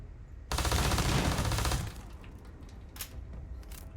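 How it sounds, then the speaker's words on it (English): A loud, sustained burst of rapid automatic gunfire from a weapon in the space game Starfield rattles for over a second, followed by fainter scattered cracks and reverberation. "I shoot first."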